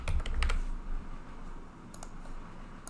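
Rapid clicking of computer keys, a quick burst of typing up close, then a few scattered keystrokes over a soft background hiss.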